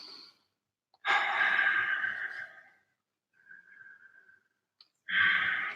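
A long, deep breath drawn in during a Kyokushin karate breathing exercise, a close, steady airy rush lasting a couple of seconds, followed by a fainter exhale and another strong breath, with no talking.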